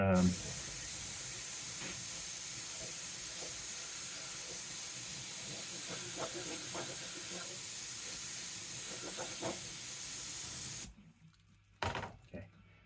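A continuous hiss of an airbrush spraying paint in a fine pattern runs for about eleven seconds, with faint voices underneath, then stops abruptly leaving quiet with brief sounds.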